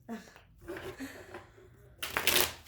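Tarot cards being shuffled, crisp riffling bursts over and between a voice talking, with the loudest flurry of card noise near the end.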